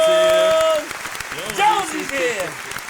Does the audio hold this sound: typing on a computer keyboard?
no